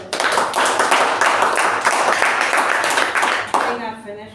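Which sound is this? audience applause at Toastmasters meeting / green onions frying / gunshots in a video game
audience applause at Toastmasters meeting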